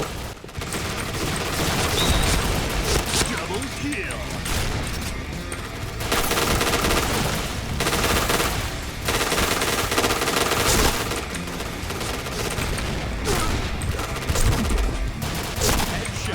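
Rapid bursts of automatic gunfire from the video game Point Blank, loud and near, firing in sustained volleys with brief pauses between them throughout.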